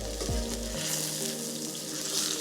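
Wagyu steak searing in a pan, a steady close sizzle and crackle of hot fat that runs without pause, with a low thump of the pan at the very start.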